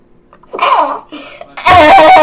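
A person sneezes up close, a short gasping build-up followed by a loud explosive burst, with vocal sounds in between.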